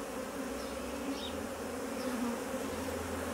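Honeybees buzz steadily around an open beehive during a routine inspection, a close continuous hum with a few individual bees droning past.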